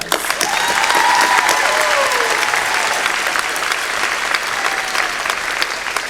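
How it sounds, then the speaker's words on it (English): At a college commencement ceremony, a large audience applauds faculty members with loud, continuous clapping, and a few cheers or whoops rise briefly above it early on. "Please give them a round of applause"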